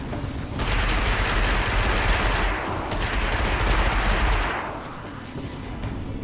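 Sustained automatic gunfire from the video game Destiny: long rattling bursts of rapid shots with brief gaps between, loud and close, then trailing off into quieter game ambience.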